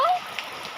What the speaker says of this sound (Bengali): এই এখানে বৃষ্টি